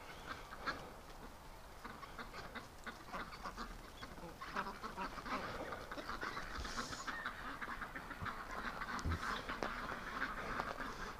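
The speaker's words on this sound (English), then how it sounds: "we got the Muscovies are coming out" Muscovy ducks on a swampy winter farm give faint, scattered soft calls and rustles at a distance, with other waterfowl murmuring over a quiet outdoor background.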